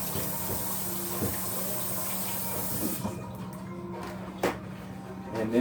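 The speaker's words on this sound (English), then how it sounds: "Wash my hands." Tap water runs steadily into a kitchen sink as a chef washes his hands, a close, even hiss that cuts off partway, followed by a few faint splashes and clatters.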